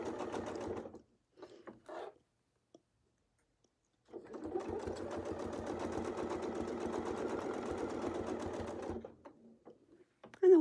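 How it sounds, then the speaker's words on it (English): A sewing machine stitching quilt fabric along a curve: short bursts of whirring stitching, then a long steady run of rapid needle clatter, close and fairly quiet, stopping again near the end. "always sewing to the outer, wider part of the curve on this one"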